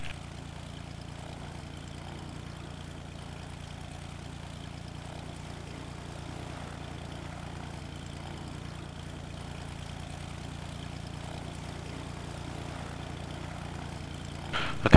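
A King Air propeller aircraft taxiing in a flight simulator game, with a steady droning engine and propeller hum that holds evenly throughout at moderate loudness.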